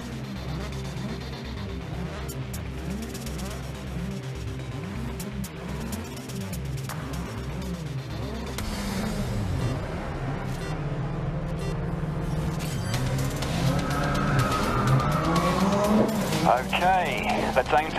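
Race cars in GRID Legends roar through a steady engine drone, revs climbing and pitch rising toward the end, with tire noise under a voice talking throughout.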